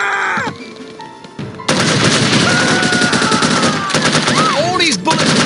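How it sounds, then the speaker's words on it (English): Gunfire in the video game No One Lives Forever: dense, continuous bursts of automatic shots filling most of the clip, loud and close, with a few whooshing effects near the end. "All these bullets!"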